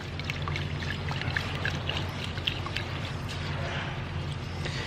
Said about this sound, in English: So just pour up to the rice line and then just give it a good rinse with your hands.